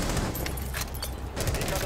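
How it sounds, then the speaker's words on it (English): Rapid close-range shotgun blasts and gunfire in the tactical shooter Rainbow Six Siege, dense and continuous over busy game noise, with players talking throughout. "We're missing a shotgun from a centimeter away!"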